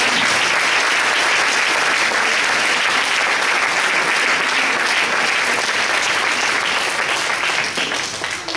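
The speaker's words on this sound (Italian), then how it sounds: "So I think we should give all those who helped us the food today a big round of applause." Sustained applause from a church congregation thanking the people who helped with the food, a dense, steady wash of many hands clapping at close range for the whole stretch, easing slightly at the very end.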